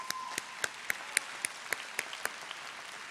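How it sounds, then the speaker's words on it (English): Audience applause at a Kendall College graduation ceremony, a fairly soft, steady wash of clapping with a few sharper individual claps standing out at regular intervals. "that's a round of applause"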